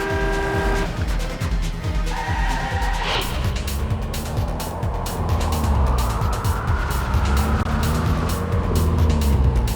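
A car drives at speed during a chase, its engine and road noise loud and steady throughout, with a brief horn-like tone near the start.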